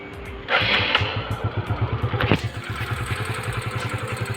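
Motorcycle engine during a beginner's riding lesson, close and moderately loud, catches and settles into an uneven pulsing idle after a rise in throttle, with a sharp blip midway.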